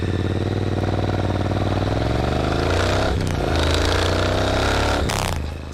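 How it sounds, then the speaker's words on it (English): Loud, boomy motorcycle exhaust pipes recorded from a microphone under the seat, idling and then revving hard, the sound dense and distorted from clipping throughout with no voices. "These pipes are loud, they're very boomy, and it was distorting the microphone."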